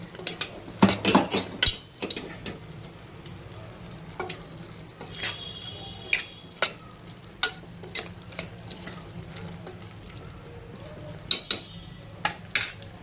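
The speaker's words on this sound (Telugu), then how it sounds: "ఇప్పుడు కొంచెం కలిపేసి" A spoon stirs chili powder into a potato curry in a pan, giving repeated clinking and scraping strokes against the metal over a soft, steady sizzle of frying, with no talking.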